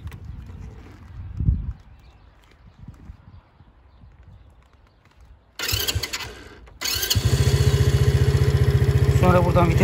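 A Yuki Gusto 50 moped engine is started and then settles into a steady, loud, rhythmic idle, following quieter handling noises and brief bursts of mechanical sound.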